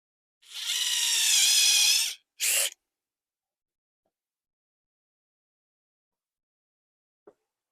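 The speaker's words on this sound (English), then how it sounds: "Pre-drill the other end." A power drill pre-drilling wood for a trellis frame whirs steadily for under two seconds, then gives one short second burst, followed by quiet and a faint click.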